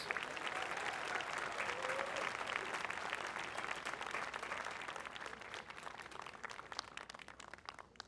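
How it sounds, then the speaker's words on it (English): A commencement crowd applauds students and speakers at a university graduation, continuous dense clapping at an even level, thinning slightly toward the end with faint voices underneath. "Let's have another round of applause for our students and for our speakers."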